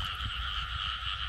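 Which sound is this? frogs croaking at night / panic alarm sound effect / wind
frogs croaking at night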